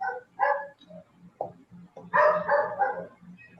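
Dogs bark and yip in short, uneven bursts at close range, a couple of sharp barks early and then a longer cluster of overlapping yelps.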